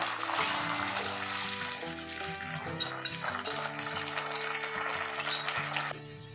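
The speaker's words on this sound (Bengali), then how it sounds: "বাটিটা ধুয়ে জল দিয়ে দেবো।" A bowl is rinsed under running water while a chicken dish is being prepared, a continuous trickle and splash with faint clinks of the bowl. Soft background music plays underneath.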